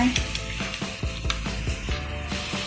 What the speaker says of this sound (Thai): ทีนี้เราก็เอากุ้ง ใส่นะคะ